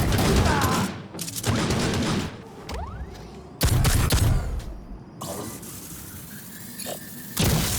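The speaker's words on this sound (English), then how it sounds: "The Plasma Pistol features a lovely detailed projectile and sound." A plasma pistol fires superheated gas projectiles in the game Necromunda: Hired Gun, loud repeated blasts and booming bursts in quick volleys with brief gaps between them, dense and close.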